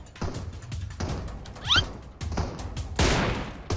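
Players trading gunfire in the battle-royale game PUBG, a few sharp bursts of shots and impacts at moderate distance, with brief game sounds between them and little talk.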